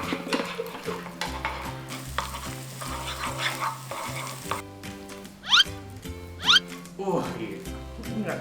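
Fried rice made without soy sauce is stirred in a pan until it starts to burn. Scraping and sizzling run steadily under ongoing talk, with a couple of sharp clanks near the end.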